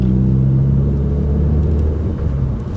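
Car engine pulling steadily in third gear on a manual 6-speed, a loud, close, continuous low rumble with a slight drop in pitch toward the end, no talking over it.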